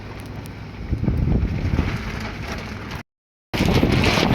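Strong wind on a rooftop chimney-building site buffets the microphone in a continuous roar, briefly cutting to silence before the gusty rumble returns.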